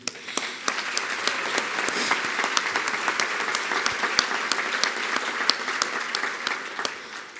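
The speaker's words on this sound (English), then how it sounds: "Let's clap for everyone in the room." An awards ceremony crowd in a hall gives sustained applause, a thick steady wash of many hands clapping with sharper individual claps poking through for several seconds, no voices over it.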